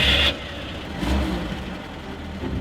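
A radio-controlled toy car drives along, its small electric motor whining and buzzing at a fairly loud, close level, rising in pitch as it speeds up and then easing back.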